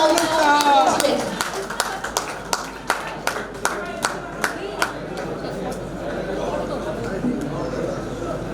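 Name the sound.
audience applause during felicitation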